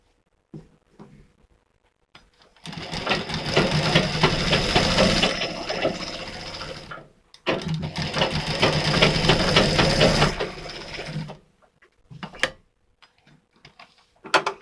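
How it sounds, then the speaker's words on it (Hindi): A sewing machine running a straight stitch on a blouse in two sustained bursts, each several seconds of rapid even chatter, with a pause and a few small clicks between and after. "सीधी हम सिलाई यहाँ पर लगाएंगे"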